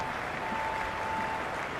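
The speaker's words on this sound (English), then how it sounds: "There's a buzz, a real buzz coming from the stands" A stadium crowd at an IPL cricket match in the Cricket 26 video game gives a steady, wide wash of cheering and applause, heard from a distance with no talk over it.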